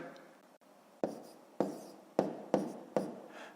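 Numbers written by hand for a decimal subtraction problem in a fifth-grade maths exercise, heard as a series of close, distinct pen-on-paper strokes in an irregular rhythm, with no talking.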